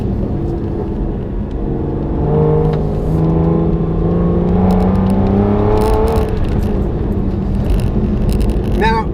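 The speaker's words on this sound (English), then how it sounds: "This car's been decatted as well, so the engine note is even more there." A decatted Aston Martin DBS engine revs while driving, a loud continuous rumble with rising and falling tones as it pulls, close and dominant throughout.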